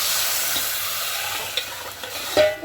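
A spoon stirs vegetables frying with spices in a pan for veg paneer pulao, soft sizzling with a few scraping knocks and clatters near the end.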